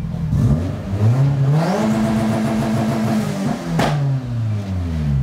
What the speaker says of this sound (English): You can just gas it out. We get fun popping noises, but as you guys can see, it just goes there and it holds it at that RPM.